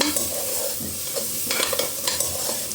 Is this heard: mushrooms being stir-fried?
yes